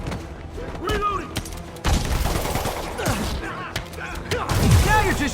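Gunfire in the Spider-Man video game rattles out in bursts of shots and thuds, with shouting voices over the action.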